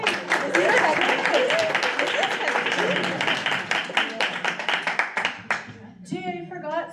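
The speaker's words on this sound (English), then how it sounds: "Round of applause for Alex" Audience applause for Alex at a Georgian Bay Reads 2023 event, a dense burst of clapping from a seated crowd that thins into scattered individual claps before a voice begins speaking at the end.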